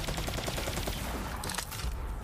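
Rapid gunfire from a weapon in the video game Borderlands 3, a dense burst of repeated shots in quick succession, fairly quiet and continuous over the short span.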